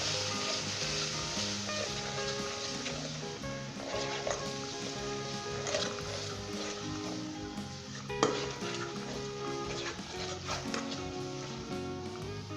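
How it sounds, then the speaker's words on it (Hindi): Ground masala being stirred into chana frying in a pan for Lahori-style chholay, with steady sizzling and scraping of a utensil against the pot, close and continuous with a sharper clack near the end. "मिक्स कर लें इसे।"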